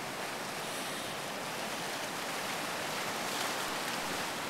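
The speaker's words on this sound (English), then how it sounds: "Here comes the tide." Ocean tide waves rolling in on a beach, a steady broadband wash of surf that swells slightly louder near the end, continuous and fairly close with no voices.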